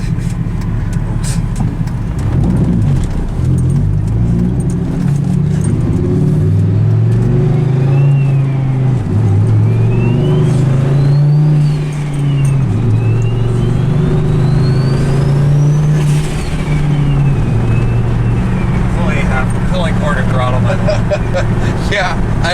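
Turbocharged Dodge Ram SRT-10 with the Viper engine and hood dump exhaust, loud and close, revving and falling with a rising turbo whine over a deep rumble, while people talk throughout.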